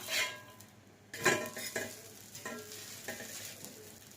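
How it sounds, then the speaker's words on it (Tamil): A multivitamin dosa fries in a pan, giving a soft steady sizzle, with a metallic scrape and clatter as it is flipped, followed by fainter sizzling and light utensil taps. "நம்மளோட மல்டிவிட்டமின் முருவல் தோசை பாருங்க ஒரு சைட் பொறிஞ்சிருச்சு திருப்பி போட்டுக்கலாம்"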